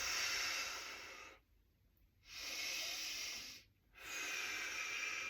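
Slow nasal breathing during a fascial stretch for lower back tension, each long airy breath close and steady, separated by brief silent pauses.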